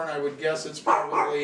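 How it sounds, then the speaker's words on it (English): Bella the dog barks a few quick, close yips at someone coming in the door, tangled with someone talking over them. "Bella's barking at whoever's coming in the door"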